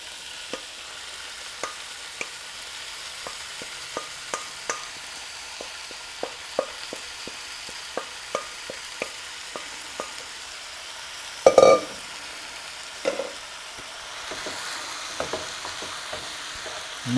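A meat and rice mixture for Persian dolma fries in a pan under a soft steady sizzle, with regular spoon scrapes and taps all through and a louder clatter partway.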